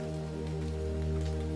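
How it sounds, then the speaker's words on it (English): Rain falls against a house in a steady, soft patter, layered over a low sustained droning hum, with no voices present. "sends a flurry of raindrops towards the house"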